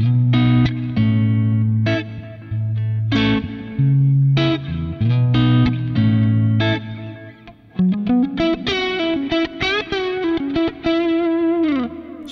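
An electric guitar on its neck pickup, Fender-style, runs through a Kemper profiler with the graphic equalizer off, playing warm single notes and chords, ringing and sustained, close and alone without talk.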